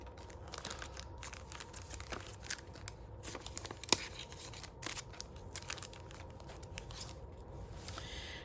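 Scissors cut through writing-pad paper for a journal with close, irregular snips mixed with papery crinkling and rustling, all at a fairly quiet, steady level.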